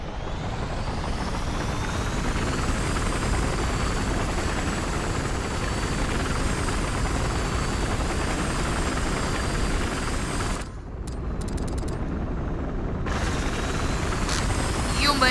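A helicopter in a roleplay video game runs steadily for the whole stretch, a loud continuous engine and rotor roar with a high whine on top. The sound drops out briefly near the end and then returns.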